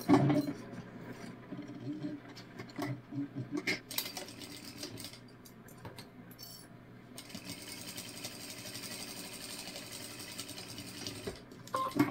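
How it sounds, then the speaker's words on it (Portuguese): A sewing machine runs straight seams down both sides of a fabric bottle holder, with uneven mechanical clattering, clicks and handling knocks at a moderate level. "E agora, eu vou passar uma costura reta nas duas laterais."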